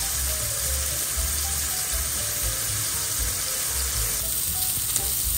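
Chicken searing in a pan, a steady close sizzle and crackle of frying running evenly throughout, with no speech over it.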